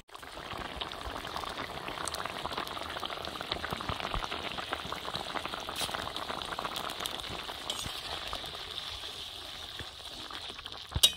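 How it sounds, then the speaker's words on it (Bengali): Fish curry simmering in a pot on the stove, a soft continuous bubbling and crackle of boiling liquid with faint spits, steady throughout and ending in a small clink, no voices. "ঝোলটা 5-6 মিনিট মাছগুলো দেওয়ার পর ফুটিয়ে নিয়েছি।"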